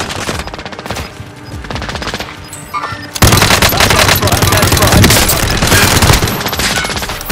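Heavy automatic machine-gun fire in the shooter game Warzone, loud and sustained bursts that intensify midway, with overlapping gunfire over a steady battle din.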